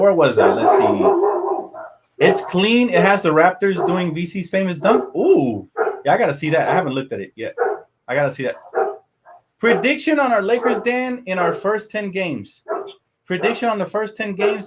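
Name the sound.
dogs barking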